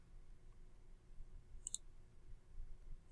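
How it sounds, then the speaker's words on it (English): A single crisp computer mouse click lands near the middle, close and brief, over a faint steady room hum while someone works on building a Google Sites portfolio page. "I'll click on text box for right now."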